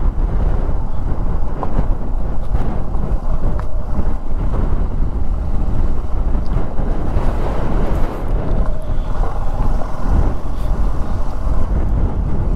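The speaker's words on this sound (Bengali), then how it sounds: "প্রচণ্ড জোর হাওয়া দিচ্ছে।" Strong Himalayan wind roars steadily over a motorcycle rider's helmet on a mountain road, a loud, continuous broadband rush with gusty buffeting and no talk.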